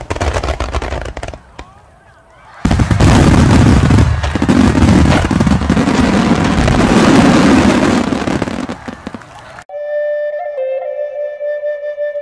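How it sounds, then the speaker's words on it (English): Fireworks burst loudly and continuously in a dense, crackling barrage for several seconds, following a quieter opening with a few pops, before the noise cuts to a steady electronic tone. "we went from that little tiny firework to this"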